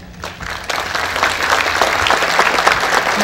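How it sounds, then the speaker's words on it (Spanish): Sustained applause from a seated audience at a professional engineers' induction ceremony in Lima, a dense, even clatter of many hands that swells after a brief lull and holds steady throughout. "Por favor, los recibimos con un caluroso aplauso."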